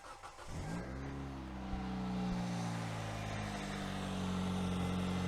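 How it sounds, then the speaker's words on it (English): A 2009 Hyundai Elantra's engine cranks briefly and then catches, settling into a steady, close idle hum that carries on to the end. "We're going to start the engine."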